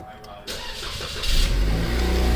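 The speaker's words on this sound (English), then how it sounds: "I'll start the car up" A 2013 Cadillac ATS 2.0L turbo AWD with an oil pump pressure solenoid fault is cranked and starts, then settles into a rising, steady idle close by. A voice talks briefly at the start.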